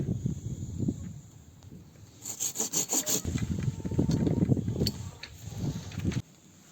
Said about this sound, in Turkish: dik yukarı doğru dik olan bir gövdeyi keseceğim